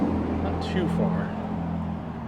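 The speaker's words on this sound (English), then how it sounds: "Nice and quiet in here as a loud truck goes by." A loud truck rolls past on a city street, a steady low engine rumble holding throughout with brief higher hiss from passing traffic, close and continuous.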